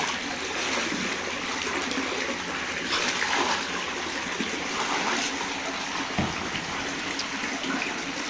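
Leftover water poured back into a tarpaulin tilapia pond, a continuous splashing, trickling rush at moderate level that runs steadily for about eight seconds with no talking.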